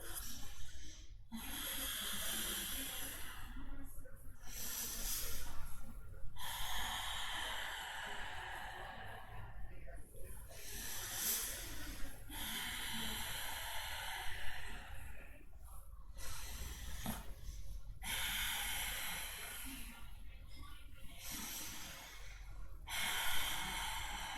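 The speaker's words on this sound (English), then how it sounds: "on that exhale, you're keeping the mouth closed and adding that fogging of the mirror sound" Ujjayi yoga breath, slow closed-mouth exhales with a soft hissing, throaty fogging-the-mirror rasp, repeated in a steady rhythm of long breaths with short pauses, close and quiet.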